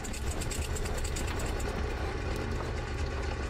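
Simulated Grumman Goose radial engine starting up in Microsoft Flight Simulator: a steady, loud low rumble and drone with a rough, rattling texture, continuous throughout and alone without talk.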